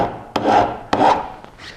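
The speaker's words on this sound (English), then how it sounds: "we'll turn the material over, so we're filing from the colored side, from the good side, at a 45-degree angle" A hand file rasps across metal at a 45-degree angle in two long, close strokes, each starting with a sharp scrape, followed by a fainter partial stroke.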